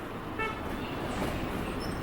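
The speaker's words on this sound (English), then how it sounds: "There's a car behind me somewhere honking" Somewhere behind, a car horn gives a short toot amid the steady roar of street traffic in Zhengzhou, China, the brief honk partly buried in the road noise.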